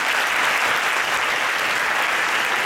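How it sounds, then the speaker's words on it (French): A magic show audience gives loud, sustained applause, a thick uniform roar of many hands clapping at once, with no voices over it. "on peut l'applaudir bien fort alors"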